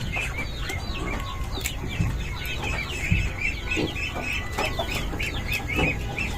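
Backyard chickens cluck close by, with repeated short calls and squawks over a low rumble of background noise. A few louder clucks stand out.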